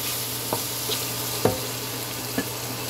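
Vegetables fry in a pan with a constant close sizzle, while a spatula taps and scrapes the metal three times at uneven intervals; no one speaks.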